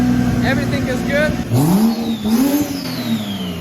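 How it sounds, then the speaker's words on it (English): A straight-piped BMW M235i with the N55 engine revs, rising and falling under a voice, the exhaust note swelling loud at mid-clip before settling back to a running rumble. "The engine is running."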